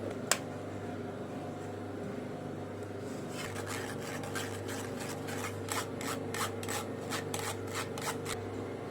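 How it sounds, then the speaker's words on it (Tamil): Sweet kolukattai mixture is strained through a kitchen strainer, giving a steady close rubbing and rasping scrape, with a run of rhythmic scratchy strokes building in the second half. "இப்போ ரெடி ஆயிடுச்சு, வடிகட்டி எடுத்துக்கலாம்."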